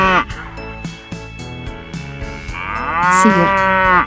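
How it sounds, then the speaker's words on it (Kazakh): A cow in a children's cartoon about farm animals gives one long, loud moo that swells toward the end, set over a steady, beat-driven music backing. "Сиыр."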